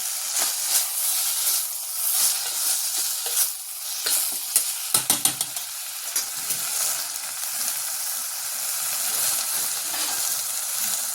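Fresh safflower leaf greens sautéed with salt in a pan, giving a loud, steady hissing sizzle with soft stirring scrapes and a brief cluster of clicks midway, close and alone.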